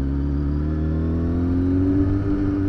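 A motorcycle fitted with a short wall-mount exhaust revs steadily, its deep layered engine tone rising slightly in pitch, loud and close with no talk.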